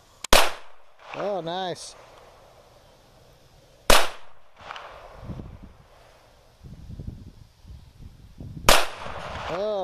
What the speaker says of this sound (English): Anybody with a little bit of experience can shoot this gun extremely well.